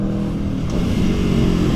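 A sports bike or super naked motorcycle engine on a standard exhaust revs hard and steadily, close and loud, with a dense, continuous roar that builds slightly toward the end.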